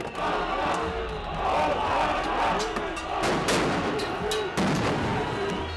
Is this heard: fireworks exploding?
yes